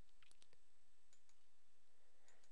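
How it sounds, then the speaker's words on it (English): A few sharp computer mouse clicks in quick pairs, close and quiet, spread over a few seconds with near silence between them. "hold Alt and then click on that stopwatch picture"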